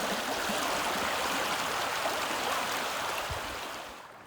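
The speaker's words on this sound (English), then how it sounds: "this is a really large flow coming off of the main river" Heavy overflow water from a river rushes steadily through an Acadian forest flood plain, a loud, continuous broadband stream roar that eases slightly in the last second.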